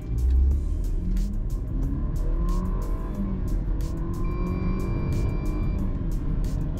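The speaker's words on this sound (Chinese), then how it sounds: "从这里 full throttle 到前面去 emergency brake。" A car accelerates at full throttle on a wet racetrack during a tyre brake test, a steady loud engine roar with rumble and rising tone, no talk.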